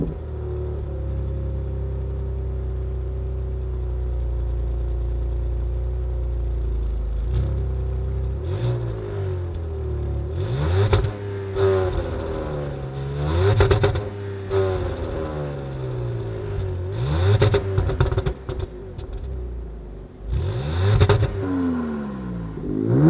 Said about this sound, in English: let's fire it up and hear what this 6-pack sounds like.